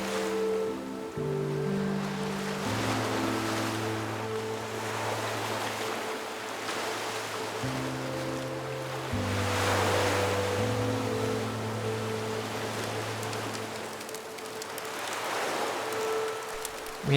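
Ocean waves at Bear Beach on Vancouver Island roll in as slow, washing surges every several seconds, with steady music playing over them.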